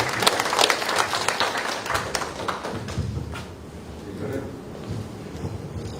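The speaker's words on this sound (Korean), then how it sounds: "서현민 행사 축제 팀장님이십니다. 박수로 맞아주시기 바랍니다." A room of people applauds to welcome a festival team leader at a community meeting about the Yeonsan jujube festival, a steady wash of clapping that thins slightly midway, with some voices underneath.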